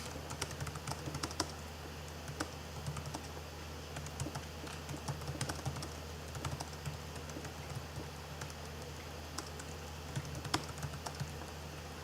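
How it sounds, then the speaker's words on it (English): Fingers type steadily on a computer keyboard, a quiet, continuous patter of light clicks and taps with occasional sharper keystrokes, heard close with no talking. "Let me type in here."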